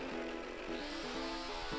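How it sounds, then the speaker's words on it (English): A beaver's chainsaw in the Open Season video game buzzes in short revving bursts, rising and dipping several times within two seconds, faint and alone. "This is a beaver with a chainsaw."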